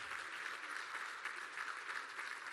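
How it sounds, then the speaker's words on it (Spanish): Dense, steady applause from a crowd at a public government event in San Ignacio, Sinaloa, greets a municipal president, continuous and fairly distant throughout with no voices over it. "no cualquiera les aplaude así a los presidentes municipales. De aquí le aplaudieron mucho."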